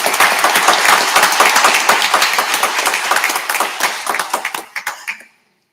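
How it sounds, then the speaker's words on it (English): Applause at a school board meeting: a dense round of clapping from a room of attendees, steady and loud at first, then thinning into scattered individual claps before stopping. "that deserves a round of applause"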